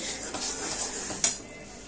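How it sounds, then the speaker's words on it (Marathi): A utensil scraping and clinking in a pan of bubbling jaggery syrup over low heat for peanut chikki, close metallic taps with one sharper clink amid a soft simmer hiss. "आता ह्याला आपल्याला बारीक गॅस करून ढवळत राहायचं"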